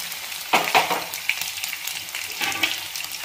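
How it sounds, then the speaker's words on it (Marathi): Pieces pan-roasting until crisp, giving a steady close sizzle. Spatula scrapes and turning noises come in clusters near the start and again toward the end. "एकदम खरपूसाला भाजून घ्यायचे।"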